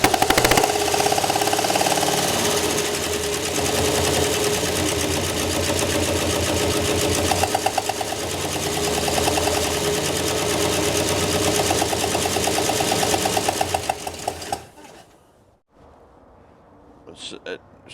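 A 1968 Oldsmobile engine, parked for 36 years, runs loud and steady with an uneven popping misfire that cuts off near the end, followed by brief clinks.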